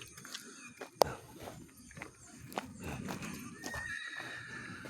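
A packhorse used for carrying stones whinnies sharply, with clip-clopping hooves on hard ground and outdoor background noise throughout.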